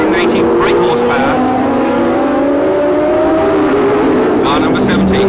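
A 1976 Formula One car with a Cosworth Ford V8 screams past on the US Grand Prix West circuit, engine revving high near 11,000 rpm, its pitch sweeping up and down, loud and close under a commentator's voice.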